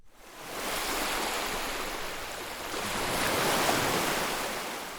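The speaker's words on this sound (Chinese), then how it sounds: "远远的，小雨就听到了海浪的声音。" Ocean surf washing onto a beach, a steady broadband roar that swells gently and stays close and fairly loud throughout, with no voices.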